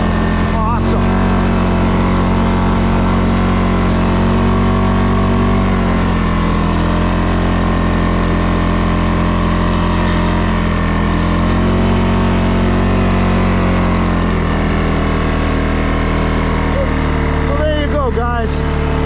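A 2022 CFMOTO CFORCE 600 ATV, still in its break-in period, drones steadily throughout with a low, continuous engine hum during a ride, and a person talks over it.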